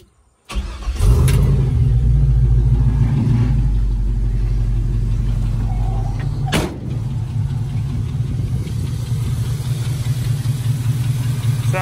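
An LS-swapped 1966 Chevrolet C10 pickup cranks and fires up, then settles into a loud, steady, rumbling idle close by, with a slight blip midway and no talking.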